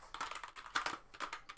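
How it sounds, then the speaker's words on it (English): Rapid, furious typing on a computer keyboard, a quick irregular flurry of close key clicks in short bursts, fairly quiet, with no talking. "Furious typing."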